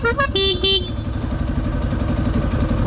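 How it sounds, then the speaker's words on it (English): A toy horn fitted to a Yamaha XT250 motorcycle gives a few quick high honks over the steady idling engine, loud and close. "I had to put a toy horn on a toy bike."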